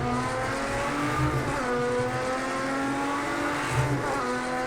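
Race cars in Project CARS 2 at Le Mans roar loudly throughout, with engine pitch rising and falling as they rev and shift. Tire noise mixes in, and no crash impact stands out.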